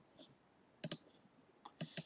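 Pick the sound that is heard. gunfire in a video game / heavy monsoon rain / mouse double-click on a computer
mouse double-click on a computer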